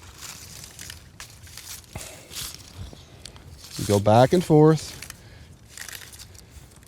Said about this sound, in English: what you're hearing is not me scrubbing the ground, it's hitting these leaves about 1 inch above the ground